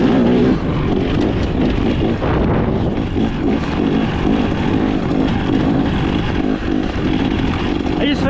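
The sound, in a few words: XCW 300 dirt bike engine while riding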